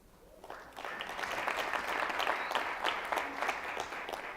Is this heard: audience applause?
yes